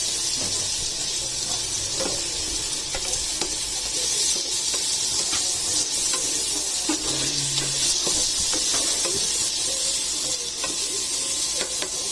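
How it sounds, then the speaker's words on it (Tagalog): Potatoes sautéing in a pan with onion, garlic and tomato for pork giniling, a constant loud hissing sizzle with faint scraping touches running throughout. "So this time po, pwede na natin isabay yung sibuyas, bawang at kamatis. Igisa po natin yung patatas."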